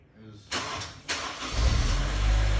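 A Honda S2000 with a freshly installed F22C1 engine cranks in two short bursts, then catches and settles into a rough, loud idle nearby.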